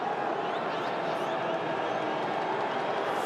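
Steady, dense roar of a stadium crowd at an AFL night match, Port Adelaide against Essendon, holding an even level throughout with no distinct cheers or claps standing out.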